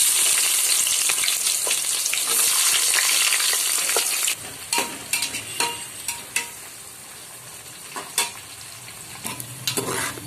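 Onions fry for chicken biryani in a pan, hissing loudly and steadily up close. The sizzle then drops to a softer crackle punctuated by scraping stir strokes.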